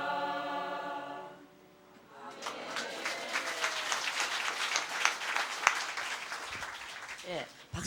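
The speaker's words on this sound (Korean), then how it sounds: "박수 치면 이상한 사람이 있을까요?" Clapping from a church congregation during a Sunday evening worship service, starting after a sung hymn fades and continuing as a dense, steady patter of many hands, with voices mixed in.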